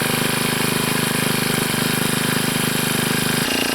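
A Honda UMK425LE brushcutter engine runs just after a pull start, a steady close-up chugging putter with a rapid even pulse that drops to a lower idle right at the end.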